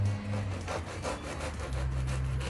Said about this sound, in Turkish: Ve şimdi ekmeklerimi kesmeye başlıyorum.